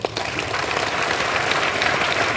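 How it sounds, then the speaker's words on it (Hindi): An audience at an RCM business academy session in Bhilwara claps with both hands raised overhead, a dense, steady wash of applause that holds for a couple of seconds. "एक बार दोनों हाथ ऊपर करके ताली बजा देता"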